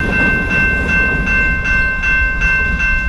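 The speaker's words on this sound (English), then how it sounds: "I got to about 165 or 170 trucks on this... Wagons, trucks, whatever, on this train" A long freight train of about 165 to 170 wagons in Vancouver, Canada rolls past close by, wheels clacking in a regular rhythm over a deep rumble, with a steady high tone ringing throughout.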